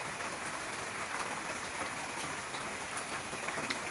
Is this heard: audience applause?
no